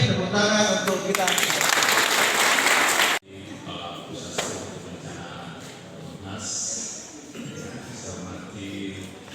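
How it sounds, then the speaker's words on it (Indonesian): An audience at a disaster-management simulation event applauds loudly for a few seconds. The clapping cuts off abruptly, then a speaker talks over a quiet room. "tepuk tangan untuk kita"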